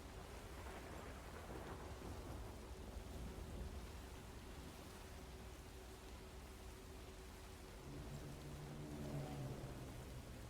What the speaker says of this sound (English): I don't think the rain's going to clear out, but we can hope maybe.